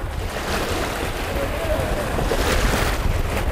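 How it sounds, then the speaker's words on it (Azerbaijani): A motor boat approaches during a water rescue, a steady low rumble blended with wind buffeting and wave wash that builds slightly, with some voices underneath. "yəni motorlu qayıq gəlir"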